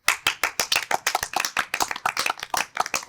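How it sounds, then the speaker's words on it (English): A crowd claps at a community event in Crete linked to Ergotelis football club, giving a steady, brisk run of loud, close applause with no talking. "We give it up for Marius though"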